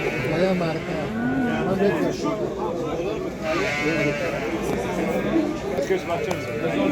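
Sheep bleat repeatedly at a crowded livestock market, their calls layered over constant crowd chatter and general market bustle.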